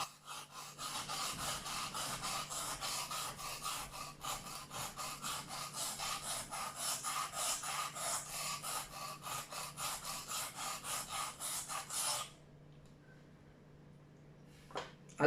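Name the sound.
knife sharpened on 120 grit side of a whetstone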